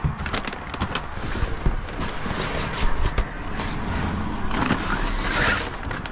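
A motorcycle pulls away at the start of a food delivery ride, with a steady, fairly loud engine and road rumble that rises and falls slightly throughout and no talk.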